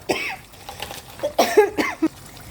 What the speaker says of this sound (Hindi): सॉरी खांसी एकदम से इतनी ज़्यादा आ गई।